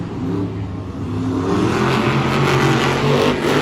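Monster Jam monster trucks race head-to-head in Orlando, their engines roaring loud and continuous as they rev and accelerate, with a dense mechanical growl that swells over a few seconds.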